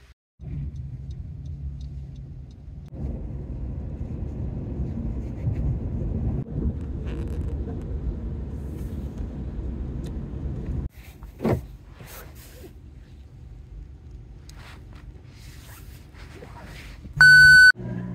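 Inside a taxi cab on a snowy day: steady low engine and road rumble with wind noise throughout, dropping to a quieter hum partway through, with a brief beep near the end.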